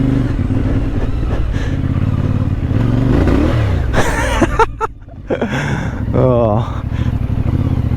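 A CF Moto 450 MT motorcycle rides at very low speed, its engine a steady close rumble with a few brief rises in revs, under near-continuous talk from the rider.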